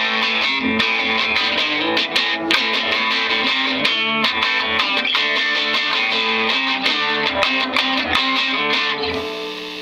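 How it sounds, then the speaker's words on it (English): Distorted electric guitar from a custom Les Paul DC with P-90 pickups, played through a Garage Tone Chainsaw distortion pedal, a loud, continuous fuzzy riff with rhythmic chord strums and no talking. "I've got a garage tone chainsaw distortion."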